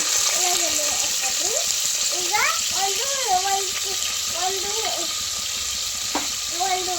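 Onions fry in hot oil for a vegetable kurma, a steady, even sizzle with a voice talking clearly over it for most of the stretch.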